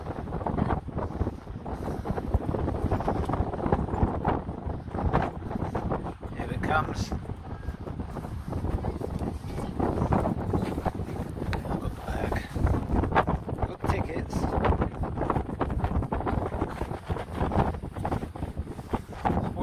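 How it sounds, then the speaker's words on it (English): Steady gusty wind buffeting the microphone on a pier at Wellington harbour, New Zealand, a loud broadband rumble throughout, with faint voices and waterside ambience underneath. "It's windy now."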